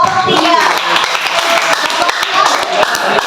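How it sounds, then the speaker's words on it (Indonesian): A small classroom group claps for group 3, a short burst of close, uneven hand claps with voices talking over it. "tepuk tangan untuk kelompok 3"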